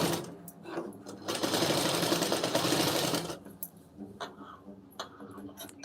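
A sewing machine stitches a lined blouse in a steady loud run of nearly three seconds, then stops for a few lighter clicks and handling noises.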